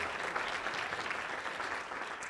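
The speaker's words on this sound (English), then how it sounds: "If we can give them a round of applause." Steady applause from a conference audience fills the room for the organisers, dense and even from start to finish with no voices rising above it.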